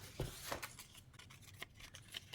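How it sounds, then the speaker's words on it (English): Scissors snip through paper for a seasonal art journal, a few quiet, quick cuts close by in a hushed room. "I'm going to cut this one down small"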